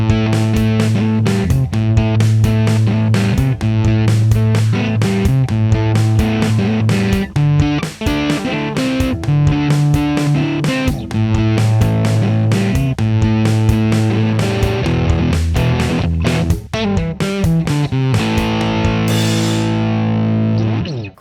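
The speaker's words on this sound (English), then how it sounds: "I like to use an amp with a relatively low amount of gain and use a slapback echo to make the sound wider" Electric guitar riff played mostly on the higher strings through an amp with low gain and slapback echo, bright, rhythmic repeated phrases with a doubled, widened attack, loud and alone without talk.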